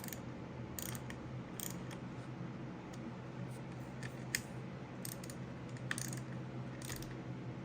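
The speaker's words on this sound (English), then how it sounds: "Torque this to 89 inch-pounds." A torque wrench ratchets as clutch bolts are tightened on a 2022 Kawasaki KX250F during a Rekluse TorqDrive clutch install, with scattered quick clicks over a steady low hum.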